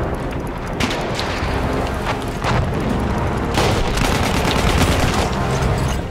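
Battlefield 1 combat at Fort De Vaux: a shotgun fires amid dense battlefield gunfire, loud blasts and crackling shots layered over continuous noisy combat with no clear gaps.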